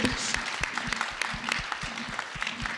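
An audience at a Meharry Medical College event applauds, a brief burst of crowd clapping with distinct individual claps standing out and voices murmuring beneath.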